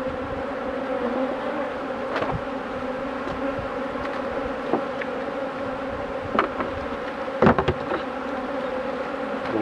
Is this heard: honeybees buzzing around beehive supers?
yes